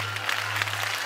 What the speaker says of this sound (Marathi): म्हणून स्वतःसाठी टाळ्या वाजवा.